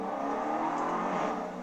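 Car engine revving with exhaust crackles, a steady broadband roar held close and loud throughout, tapering slightly at the end with no voices over it.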